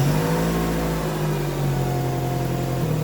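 The 2.5 L engine of a 2006 Nissan X-Trail runs steadily with a close, even hum and a constant engine drone, with no clear start-up surge.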